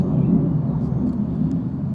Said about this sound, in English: pardon the jet noise.